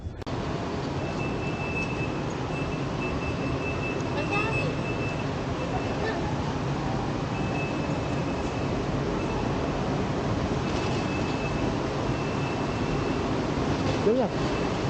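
Steady rumbling train noise fills the space, a constant roar with faint squeals and rattles, with people talking under it.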